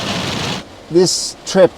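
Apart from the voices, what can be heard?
heavy rain pouring on a van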